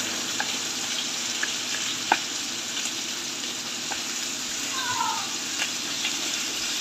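Fish frying with lemongrass and chili in a pan, a steady broadband sizzle with scattered small pops and crackles, close and continuous with no talking.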